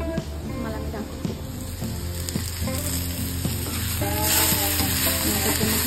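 Ridge gourd frying in hot oil with onion and tomato, a steady close sizzle with occasional stirring clinks, continuous and fairly loud throughout, with no talking.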